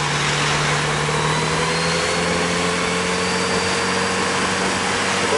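A Kawasaki Z900RS motorcycle engine drones steadily while riding through a city, a loud continuous hum with wind noise and a slight pitch shift as it moves along.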